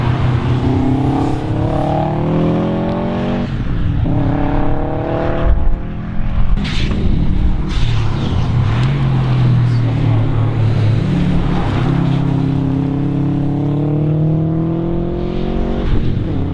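A car runs around the Kames autotest circuit in Ayrshire, its engine loud and close with rising and falling revs as it accelerates and shifts, a light tire squeal and faint talk in places.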